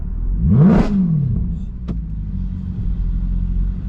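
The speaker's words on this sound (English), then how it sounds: "Let me do one quick rev for you guys." A single quick rev from a Mercedes C63 AMG 507 Edition engine snarls up and falls away, leaving a low idling rumble; a brief mechanical click follows.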